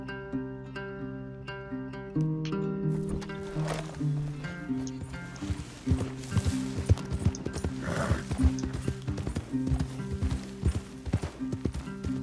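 Horses clip-clop over ground with rhythmic hoofbeats in Red Dead Redemption 2, a horse whinnies, and a musical score plays underneath.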